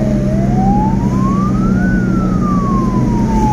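An Indonesian ambulance siren wails loud and close during a patient escort, its pitch sweeping slowly up and then back down over a steady engine rumble.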